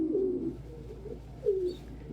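Three young pet pigeons or doves coo in two short, low bursts, close and fairly quiet, with a little scuffling between calls.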